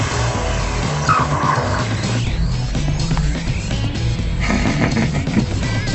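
A blue Mini skids hard through a turn during a driving session, its tires squealing and screeching almost without a break over a steady engine roar, loud and close.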